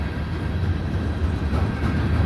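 CN and CPKC freight trains roll past at night, a loud continuous rumble of railcars with steady wheel noise and no voices.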